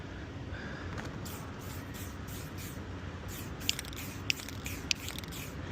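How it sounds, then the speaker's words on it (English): Short bursts of spray paint misted onto a pizza shop diorama, a soft steady hiss with a few sharp clicks from the can nozzle near the end, close and quiet. "just quick little sprays, mists, if you will, and let that dry a little bit"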